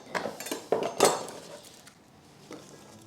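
A few sharp knife chops through celery and its leaves strike a cutting board in a quick uneven burst, then taper off to one last soft chop.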